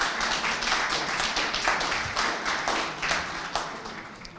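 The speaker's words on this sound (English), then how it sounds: "so give a round of applause for him." Audience clapping at a rally at Buffalo State College, a moderately distant, steady patter of many hands without voices over it.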